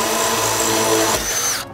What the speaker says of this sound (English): you just wanna use a drill, an impact driver with a diamond tip